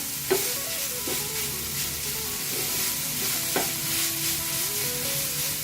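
Paneer and masala stirred together in a hot pan for paneer bhurji, a steady sizzle with repeated spatula scrapes and a few sharp clinks against the pan, no voices.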